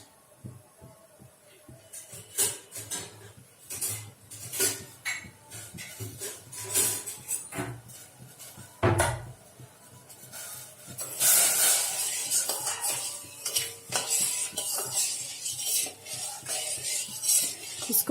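A spoon stirs apple murabba sugar syrup in a pot over high heat, with repeated scraping and clinking against the metal and a rising hiss of boiling syrup in the second half.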